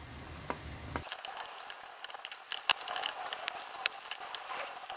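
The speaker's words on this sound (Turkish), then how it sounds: "Bu aşamada hep birlikte kavrulması için artık biberlerimizi ekleyebiliriz" Peppers and carrots sautéing in a pan for a ground-meat cauliflower dish, with a steady soft sizzle and frequent small ticks and crackles of stirring throughout, fairly close.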